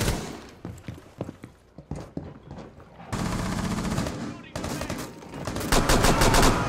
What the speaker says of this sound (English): Pulse is trying to shotgun me.